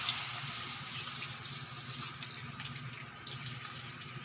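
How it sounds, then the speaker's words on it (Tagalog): Second pressing of coconut milk poured onto jackfruit in a pot, a steady close liquid splash and trickle running throughout with no talk. "ilalagay na natin yung pangalawang piga ng ating gata."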